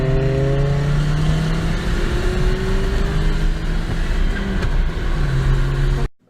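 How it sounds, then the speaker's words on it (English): Cars racing on a drag strip, engines revving loudly and steadily with rising pitch as they accelerate together, close and continuous, cutting off abruptly at the end. "Kyle, let me just show you this clip of me and you racing real quick."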